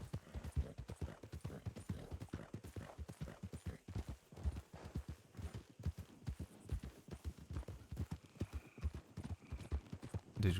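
Video game horse hooves clip-clop steadily at a brisk trot, close and even in rhythm, with no talk over the footfalls.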